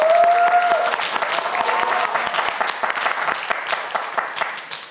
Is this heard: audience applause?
yes